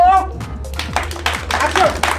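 Scattered applause breaks out on a film set, a handful of crew clapping unevenly for a couple of seconds with voices talking and calling out over it.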